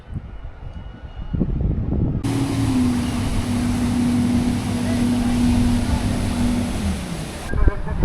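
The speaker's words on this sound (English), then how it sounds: "We thought the Coastguard boat was after us, but he's actually driving around" Coastguard motorboat engine humming steadily at a constant pitch over wind and water noise, close by, with brief voices at start and end, in the Gulf of Gökova.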